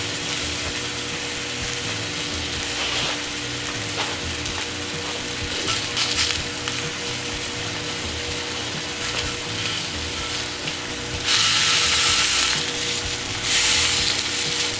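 Meat frying on a hot surface, pressed down to crisp and caramelize with added sugars, gives a steady close sizzle with scraping and clicking under it, which swells louder near the end.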